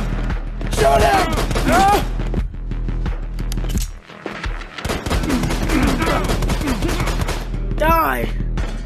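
Gunfire from the VR shooter Hit Contracts: bursts of rapid shots and clatter from the game mix with excited shouting voices throughout, loud and busy, with a short gap partway through.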